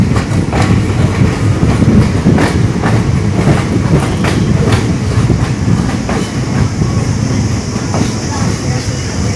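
An express passenger train between Hosur and Yesvantpur rolls steadily along the tracks, loud and close, with repeated clickety-clack wheel rhythm over a constant rumbling roar.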